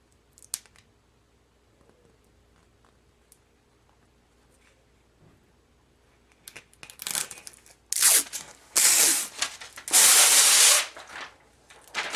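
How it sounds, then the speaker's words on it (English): Transfer tape is peeled off its backing during a rhinestone tumbler wrap, heard as bursts of loud close crackly tearing and rustling after a quiet stretch, with no talking. "So now I'm trying to get my transfer tape off of the backing."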